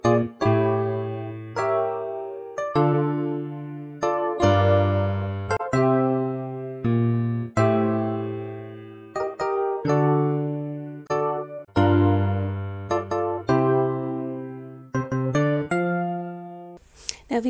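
Piano chords for a gospel song with a walk-up bass line, sustained full chords struck in a steady rhythm with quick connecting runs, close and loud with no talking.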